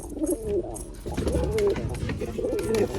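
High-flyer pigeons coo softly and repeatedly at close range, their low burbling calls rolling one after another with faint rustling around them.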